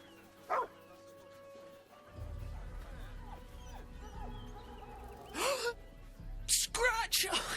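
Scratch, the dog in Baldur's Gate III, gives a short gasping yip early, then barks in bursts near the end, over a low game ambience and some background talk.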